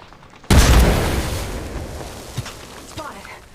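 A grenade explosion in a first-person shooter game bursts loudly and suddenly after a near-quiet moment, then decays into a long rumbling tail with faint scattered sounds afterward.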